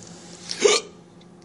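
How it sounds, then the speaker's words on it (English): One short, close hiccup, sudden and isolated, against a quiet background with faint room noise. "Hiccups."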